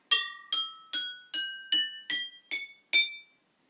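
Eight drinking glasses are struck one after another as a piano substitute, each giving a clear ringing glass tone that decays, at a steady, slow rhythm that quickens slightly near the end.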